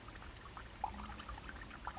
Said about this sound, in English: you could hear the little trickling of the water, and sure enough the spring's there and it's still flowing